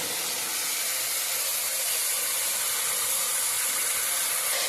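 Soaked chana dal (split chickpeas) hitting a hot pan for a cauliflower curry, giving a steady, loud, close hiss of sizzling that runs unbroken throughout with no voices.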